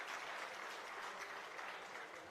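An audience applauds a guest at a flag distribution event for a sports festival, a steady, dense clapping that holds at an even level throughout with no voices over it.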